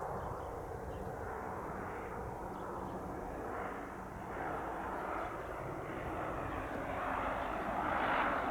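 Fixed-wing aircraft landing at Spirit of St. Louis Airport, giving a steady engine roar that builds slightly toward the end, heard from a moderate distance with no voices.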